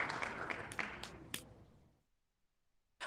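Applause from an audience at an online forum on ICT and internet policy, a steady clatter of clapping for about two seconds that thins out and stops, followed by near silence.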